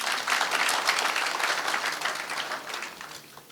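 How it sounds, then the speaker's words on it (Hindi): Loud crowd applause fills a hall during a motivational speech, dense steady clapping that gradually thins and fades over a few seconds. "ताली बजाओ, आगे बढ़े।"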